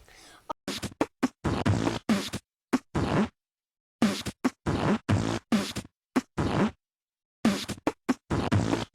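A cartoonish monster in the My Singing Monsters game makes rhythmic beatbox-style fart-like mouth noises, a stuttering pattern of loud buzzy bursts separated by short silences.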